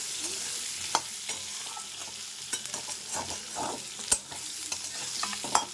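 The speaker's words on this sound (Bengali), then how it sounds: "তো আলু ভাজা হতে থাকছে" A low, steady sizzle of potatoes frying in a pan, broken by occasional scrapes and clinks of a utensil stirring.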